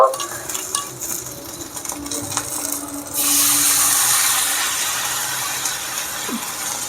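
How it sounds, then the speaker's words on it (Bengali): Chicken pieces frying on a tawa, opening with softer sizzling and a few scrapes, then a sudden louder burst of hissing spatter that holds steady, fading slightly toward the end; no speech. "একই সাথে আমি বাকিগুলোকেও এভাবে ফ্রাই করব"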